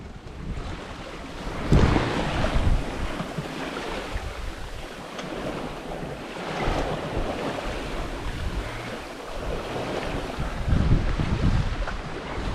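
Wind and waves rush around a sailboat crossing the Kattegat toward Sweden's west coast archipelago, a continuous roar of gusts and water with louder surges now and then.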